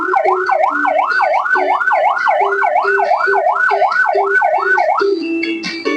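A loud, close fire engine siren wails in a fast repeating rise-and-fall pattern, then shifts to a different tone near the end.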